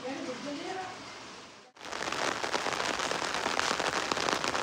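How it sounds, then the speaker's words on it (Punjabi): Rain falling steadily over farm fields, a dense hiss of drops that comes on strongly after a brief cut and stays loud and even to the end. "ਮੀਂਹ ਪੈ ਰਿਹਾ"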